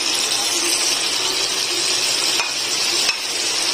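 Shredded chicken is stirred into a sizzling mixture in a pan for lacha chicken, a loud, steady frying hiss with a couple of sharp scrapes of a utensil near the end.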